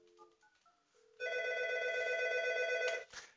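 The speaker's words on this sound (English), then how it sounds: "And now I'm going to call 792 to hear the ringing." A SIP phone call rings through an Algo 8180 SIP Audio Alerter: a few short dialing tones, then one steady, loud electronic ring tone held for about two seconds before cutting off.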